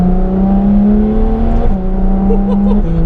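A Ferrari F12 V12 engine at low throttle gives a steady, smooth, close drone with a gentle rise in pitch and slight wavering toward the end.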